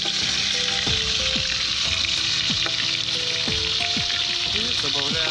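Onion and pork ribs frying hard in a kazan, a loud continuous sizzle with repeated scrapes and clatters of a utensil stirring, close up.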